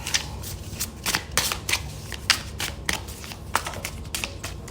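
Tarot cards being shuffled by hand in a run of quick riffling bursts, crisp papery flutters repeating close to the microphone with no talk over them.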